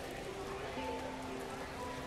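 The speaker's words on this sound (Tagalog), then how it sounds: "Umuulan." Steady rain falls at night outside an office pantry, a constant soft hiss of drops filling the background at an even, moderate level with no talk over it.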